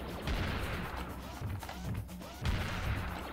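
A cannon firing cannonballs in Serious Sam, heard as several heavy thudding blasts in irregular succession amid dense crashing noise, loud and close, with no talk.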